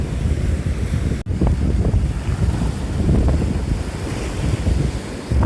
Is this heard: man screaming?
no